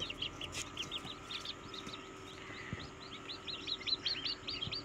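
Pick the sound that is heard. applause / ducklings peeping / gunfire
ducklings peeping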